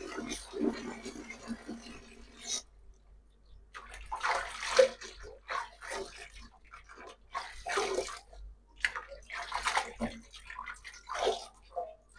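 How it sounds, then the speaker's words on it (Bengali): Water spinach (kalmi shak) leaves being washed by hand in water, with irregular sloshing and splashing bursts that come and go, fairly close and moderately loud, and a brief pause near the start. "এই যে দেখো বন্ধুরা, শাকগুলোকে আমি ধুয়ে নিব ভালো করে।"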